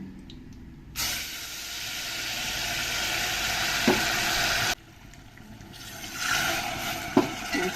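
Mustard seeds and sambar masala hit hot oil with a sudden loud hiss and sizzle that holds steady, cuts out, then flares up again with a few sharp pops.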